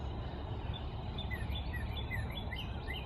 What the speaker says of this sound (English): if you know the names of those little yellow birds, put it in the comments